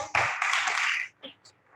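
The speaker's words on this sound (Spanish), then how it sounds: "te queremos agradecer con un aplauso" A small audience at a dance and gender talk gives a short burst of clapping lasting about a second, then a couple of isolated claps as it dies away.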